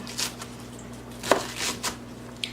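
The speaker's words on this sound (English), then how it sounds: "the first thing you're going to do is chop up one head of iceberg lettuce" A knife chops through a head of iceberg lettuce in a home kitchen, giving a few crisp, irregular cuts close by with soft crunches between them and no one talking.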